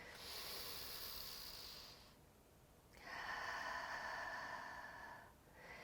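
Deep, slow breaths from a yoga session, two long breathy hisses drawn in and let out with a pause between them, close and soft with no talking.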